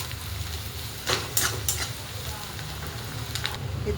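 Ground dry coconut and garlic frying in a pan, a continuous soft sizzle with a few brief scraping stirs near the middle, close by and steady, with no voice over it.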